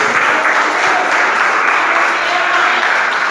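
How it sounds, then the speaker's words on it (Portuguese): A congregation applauds at a church service, a thick, even wash of many clapping hands holding at steady loudness throughout. "Aplauda ao Senhor."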